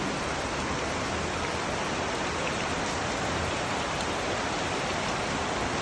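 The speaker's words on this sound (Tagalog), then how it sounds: "nakikita nyo kung gaano kalakas ang ulan" Heavy rain pours steadily and densely in Novaliches, Philippines, a constant loud hiss of drops striking surfaces nearby, with no voices.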